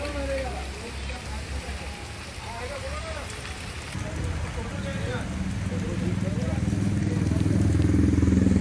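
Heavy monsoon rain pours steadily in Mumbai as a broad continuous hiss, growing louder toward the end, with faint traffic rumble underneath.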